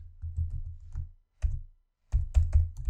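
Keys clatter on a computer keyboard in short bursts, with a brief pause partway through before a final, louder flurry of taps, close up and with no voices.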